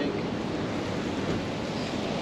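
Ocean surf washes steadily at Pensacola Beach, Florida, a broad continuous hiss of waves mixed with wind buffeting the microphone, with no distinct breaks between waves.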